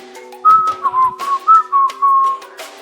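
A tuneless whistled melody, with about six short wavering notes sliding up and down, clear and close in a quiet room.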